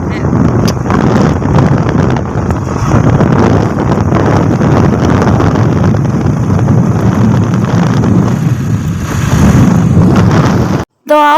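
Steady, loud wind buffeting the microphone while riding pillion on a scooter along a village road, a rough rushing roar that fills the whole stretch and cuts out for a moment near the end.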